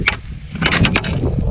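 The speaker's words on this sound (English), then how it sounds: "it's getting a little windy up here" Strong gusts buffet a phone microphone outdoors on a hillside in Idaho, producing continuous low rumbling roar with sharper bursts of blustery noise, loud and close.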